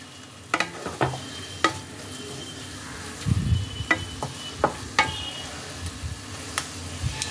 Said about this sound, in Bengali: মশলাটাকে মূলোর সাথে ভালোভাবে মিশিয়ে নিয়েছি।